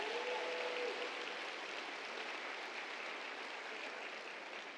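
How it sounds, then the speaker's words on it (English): Steady, dense clapping from a crowd, a continuous wash of applause holding at an even level throughout, heard at a distance. "Can we give one more round of applause to Senrock?"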